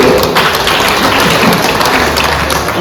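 An audience at a Dharma talk on seeing with the heart's light breaks into loud, dense applause, close and continuous clapping that fills the whole moment without speech.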